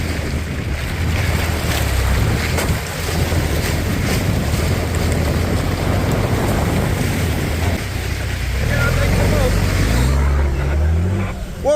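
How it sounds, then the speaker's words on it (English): On the boggy, flooded Wonnangatta low road, a vehicle churns through mud and water with a steady rushing, sloshing roar and wind buffeting the microphone, engine strain rising near the end. "Jakey boy driving the Wonnangatta low road. She's pretty boggy."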